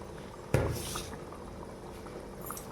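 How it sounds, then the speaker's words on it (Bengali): Matar paneer gravy made with yogurt bubbles in a pan, with a soft continuous simmer and one sharp clunk of a pan or utensil near the start. "এবার এটা ফুটুক"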